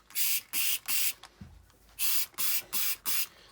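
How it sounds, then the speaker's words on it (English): Window cleaner is sprayed onto an orange juicer in a rapid series of about eight sharp trigger-spray hisses, grouped in two bursts with a short pause between, close and clear with no talking. "I was going to use some window cleaner."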